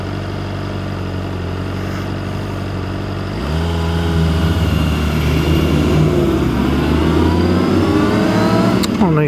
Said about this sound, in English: Oh, nice Chevelle, is that what they're called?